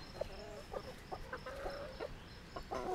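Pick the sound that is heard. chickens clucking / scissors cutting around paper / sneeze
chickens clucking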